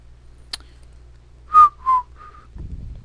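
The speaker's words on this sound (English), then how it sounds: "You can't whistle." A person whistles a few short rising and falling notes, two louder bursts in the middle and a fainter one after, with a click before and low rumbling handling noise at the end; no talking.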